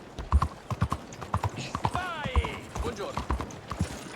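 Horse hooves clip-clop in a steady, close rhythm in the video game Red Dead Redemption 2, with a brief whinny and other game sounds mixed in and voices talking over the hoofbeats.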